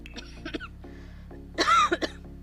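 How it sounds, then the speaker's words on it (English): A person coughs close to the microphone: a couple of small throat-clearing coughs, a pause, then a louder, harsher cough burst with a raspy, voiced tail. "little bit of a cough"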